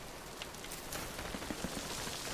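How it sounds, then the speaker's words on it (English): Steady rain falls in the survival game Vintage Story, a continuous soft hiss of drops pattering on surfaces with faint scattered ticks, heard alone at a moderate, even level. "This rain is really cramping my style right now."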